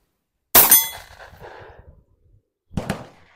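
A Tisas 1911 Carry 9mm pistol fires Winchester ammunition: one sharp, loud shot with a ringing tail, then a second shot a couple of seconds later, outdoors with no talking.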